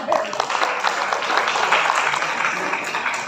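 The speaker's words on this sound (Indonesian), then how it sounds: "tepuk tangan untuk kita semua." An audience at an entrepreneurship training session for people with disabilities claps together in a short, fairly loud burst of applause, with a voice speaking over it.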